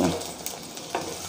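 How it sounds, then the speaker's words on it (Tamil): Okra sautéing in oil in a pan for an ajwain mor kuzhambu, a steady close sizzle with a few soft stirring scrapes and no voices over it. "ஸோ இன்னும் ஒரு ரெண்டு நிமிஷம் வதக்கிட்டு காட்டுறேன்."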